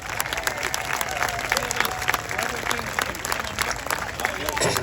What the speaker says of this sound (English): Let's have a round of applause for Mr.